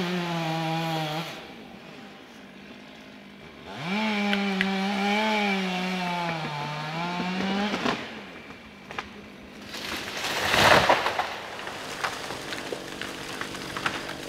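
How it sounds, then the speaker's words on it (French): A chainsaw engine whines and revs through the final cuts in an oak tree at Vibraye, its pitch rising and dipping, then a loud crashing burst as the treetop falls near the end before the saw idles on. "c'est les derniers traits de scie avant que la tête de l'arbre tombe par terre"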